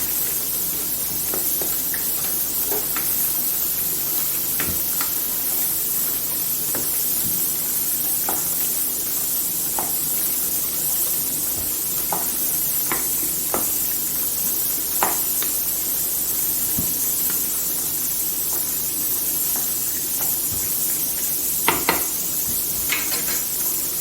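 Beef karahi sautés in a wok, a steady oily sizzle running throughout with repeated scrapes and clinks of a spoon stirring against the metal, close and continuous with no talking.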